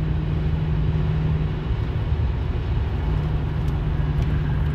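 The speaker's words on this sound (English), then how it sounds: "That's the exhaust from my town car that you actually hear." A 2007 Lincoln Town Car Signature L with a cat-back exhaust heard from inside while driving: a steady, low, droning engine and exhaust rumble under road noise, constant throughout with no talking.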